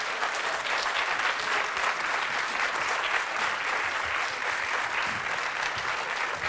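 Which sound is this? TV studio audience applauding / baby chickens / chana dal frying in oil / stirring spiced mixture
TV studio audience applauding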